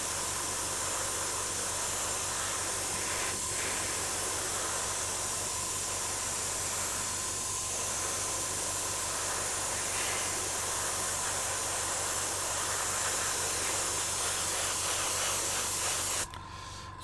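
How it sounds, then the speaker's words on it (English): Steady, loud hissing spray of an airbrush applying paint to a Legion crashed drop pod model, continuous and close for the whole stretch before cutting off abruptly near the end. "The airbrush is loud, yeah."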